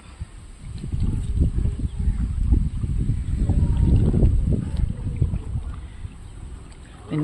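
A small country boat glides on the Achankovil river near Venmani, with a close, rumbling wash of water and wind buffeting the microphone, swelling and easing over several seconds.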